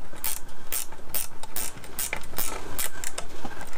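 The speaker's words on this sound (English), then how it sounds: "Step number six, tighten the ring bolts." Ring bolts being tightened on the lid of a Kamado Bono ceramic grill give off a run of quick ratcheting clicks in regular bursts, close and fairly loud, with no talking.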